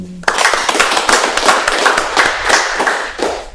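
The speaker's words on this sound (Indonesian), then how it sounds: "Tepuk tangan dulu itu." Audience clapping at an Indonesian talk event about a feature film, a dense burst of many hands starting abruptly and continuing steadily, loud and close, with no speech over it.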